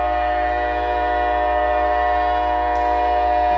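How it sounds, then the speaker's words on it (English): A passing train sounds a long, steady, loud horn-like tone that holds a sustained pitch throughout without a break, heard nearby and without any talking. "that train is really going to town, isn't it?"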